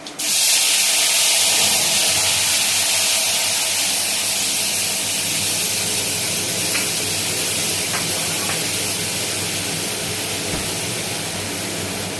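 Water hits a hot pan of oil tempered with five-spice, bursting into a loud, close hiss of steam that starts abruptly and then sustains, tapering only slightly over about twelve seconds.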